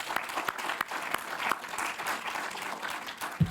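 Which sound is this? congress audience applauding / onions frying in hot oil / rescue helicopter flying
congress audience applauding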